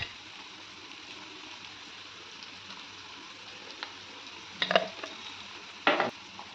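Ivy gourd (dondakaya) pieces frying in a pan for an Andhra-style fry: a quiet, continuous close sizzle with two brief louder bursts of stirring and scraping near the end, no voices.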